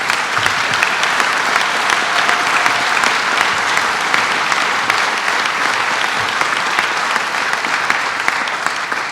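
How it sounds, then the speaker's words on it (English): Loud, sustained audience applause at a state economic revitalization award ceremony, a thick continuous wash of many hands clapping at once for around nine seconds with no gaps. "let's give her a round of applause"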